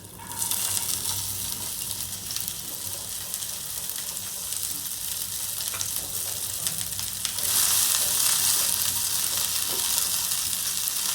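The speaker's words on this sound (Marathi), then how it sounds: "हे तेल गरम झालेलं आहे, त्यामध्ये हे मी चिरलेल्या भेंड्या ॲड करते।" Chopped okra fries in hot oil with a dense, continuous close sizzle and occasional stirring scrapes. The sizzle grows slightly louder and brighter toward the end.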